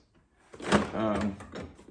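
A bottom drawer of a mechanic's metal tool box slides open with a rolling, rattling scrape lasting about a second, close and moderately loud.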